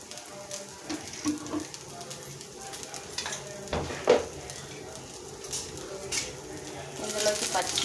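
Three spoons of oil heat in a pan for cucumber chutney, giving a soft, low sizzle with scattered clinks and taps of a utensil against the pan.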